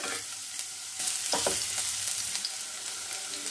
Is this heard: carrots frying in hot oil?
yes